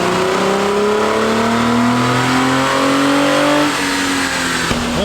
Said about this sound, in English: We have a V6 Mustang here for the first car on the dyno.